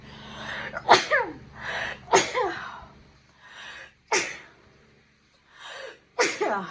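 A person sneezes several times in a row, each a sharp loud burst with a short gasp before, close by in a quiet room.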